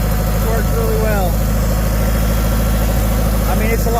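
An International Harvester 464 tractor engine runs steadily near the listener, a loud, constant low rumble with throbbing vibration, while a person speaks briefly over it.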